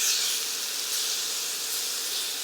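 A chicken tawa kebab mixture with black pepper, cumin, garam masala and lemon juice sautés in a pan, giving a loud, steady, close hiss that runs on without a break.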